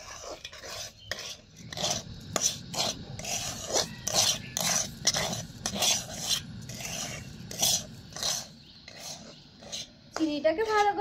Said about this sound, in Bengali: এবার আমি এই চিনিটাকে ভালো করে মিশিয়ে নেব।